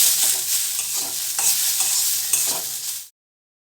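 Onions with a little salt are stirred and fried in a pan, a loud, close, continuous sizzle with repeated scraping strokes of a spatula before the sound cuts off abruptly.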